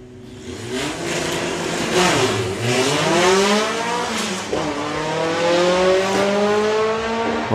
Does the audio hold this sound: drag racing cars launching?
yes